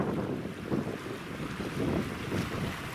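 Wind buffets a beach on Hateruma Island in Okinawa, a loud continuous roar across the microphone that may carry the wash of surf behind it, with no voices.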